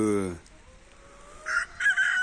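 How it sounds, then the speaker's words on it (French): A rooster in a backyard coop ends a loud, close crow, and a few softer clucks and chirps follow after a short pause. "Ici une cayenne avec un coq."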